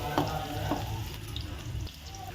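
Chopped onion fries in a pan, a soft steady sizzle with a few light stirring scrapes and clicks, fairly close and without talk.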